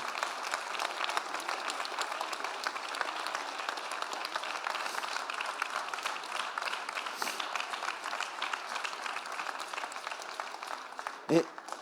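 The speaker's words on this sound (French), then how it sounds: "je voudrais que, à nouveau, vous les applaudissez tous les trois" An audience at a funeral-ceremony conference applauds three winners, a steady, dense wash of clapping lasting throughout, with a brief louder knock near the end.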